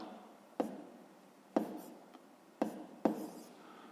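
Pen or pencil writing by hand on paper while working a fifth-grade maths exercise, heard as four soft, separate taps and short scratches spaced about a second apart, close and quiet.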